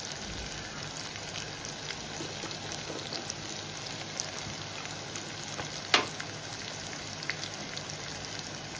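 Turmeric, coriander-cumin powder, garam masala and agri masala sauté in a pan with cooked onion and tomato, giving a steady, close sizzling hiss with one small sharp pop partway through and no talking.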